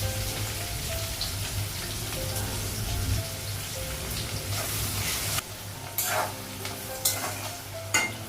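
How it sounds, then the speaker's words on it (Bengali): Onion frying in oil with whole cumin, black cumin and green chilli makes a steady close sizzle with scraping stirs, and sharper spatula clatters near the end. "পেঁয়াজটা ভাজা হয়ে গেছে।"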